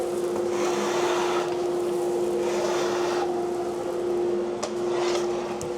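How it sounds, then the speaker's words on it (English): A shop vac draws woodturning shavings and off-cuts off a workshop floor through a 4-inch pipe attachment, giving a loud, steady, close-up suction roar with a constant motor whine that never lets up. "It'll bring up all of the off bits from the floor and straight into the shop vac."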